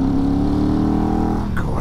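A Ducati Hypermotard motorcycle engine drones loudly and close, holding a steady revving tone that shifts as it accelerates, with no voices over it.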